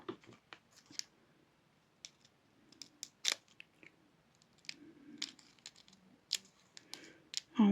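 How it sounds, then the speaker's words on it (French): Old pair of scissors snipping material, a series of crisp irregular cuts and clicks up close, spaced apart with quiet gaps and a louder rustle at the end. "c'est des ciseaux qui datent"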